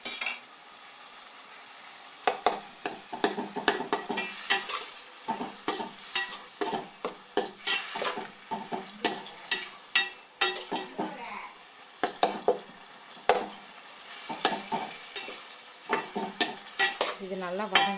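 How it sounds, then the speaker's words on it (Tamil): Tomatoes sauté in an oil-filled pan for a tomato gravy, sizzling steadily while a spoon stirs and scrapes in quick, rhythmic strokes. Occasional metallic clinks ring out, and no one speaks. "இது வந்து இப்போ நல்லா வதங்கட்டும்."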